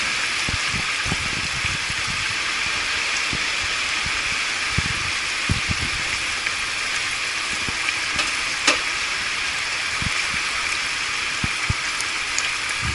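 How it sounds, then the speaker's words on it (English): Liquid with alcohol for pork belly coming to a boil in a pan, a continuous close hiss and bubbling sizzle with occasional small pops, no talk. "as you can see, it's starting to come to a boil"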